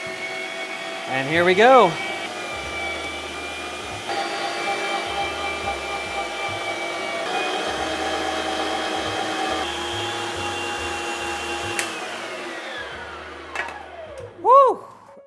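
An electric meat grinder coarse-grinding beef, a steady whining motor hum that runs for about twelve seconds before cutting off, with short excited voices just before it starts and just after it stops.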